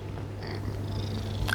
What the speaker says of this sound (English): my cat has decided to join me as usual, and he likes to sniff these fragrances as well